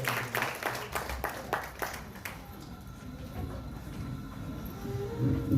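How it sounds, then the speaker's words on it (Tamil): Audience applause at an award ceremony of a bridal hair and beauty academy talent competition: a brief burst of scattered clapping at the start, fading into faint room noise, fairly distant and quiet. "உங்களுடைய உற்சாகமான கரகோஷங்களை வழங்குங்கள்"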